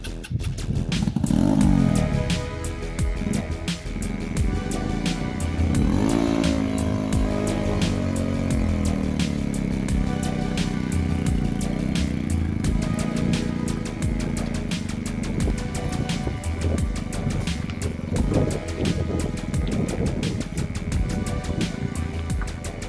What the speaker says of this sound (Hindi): गाइस, आपने देखा इस बाइक ने इस गाड़ी को खींच लिया है।